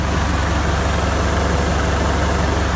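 A steady, loud idle from an IH Utility series tractor engine, a continuous low rumbling drone with even, unchanging throb throughout and no voices.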